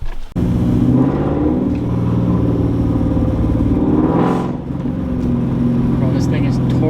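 A New Edge Ford Mustang engine fitted with long tube headers rumbles close by, a deep throaty idle with a swell of revving around the middle before settling back to a steady burble.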